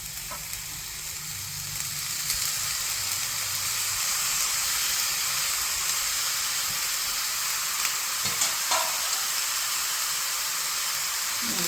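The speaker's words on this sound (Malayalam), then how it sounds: "ഇതിനകത്തേക്ക് ഈ അരിഞ്ഞ് വെച്ച് കഴുകി വെച്ചിരിക്കുന്ന ചുണ്ടിടുക" Chopped turkey berries go into a pan for a turkey berry and bean thoran and are stir-fried, with a steady sizzle that swells after the first two seconds and occasional scraping stirs.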